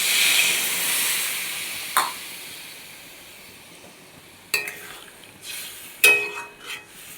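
Water hits fried spice masala in a pan for soybean curry, giving a loud hissing sizzle that slowly fades. A few sharp metallic clinks from a utensil follow. No one speaks.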